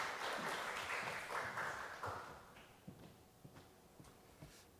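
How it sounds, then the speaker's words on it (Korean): A church congregation applauds in encouragement during a service. The clapping is a dense, fairly quiet wash that fades after about two and a half seconds into scattered shuffling and a few soft knocks. "우리 격려의 박수 한번 해주실래요?"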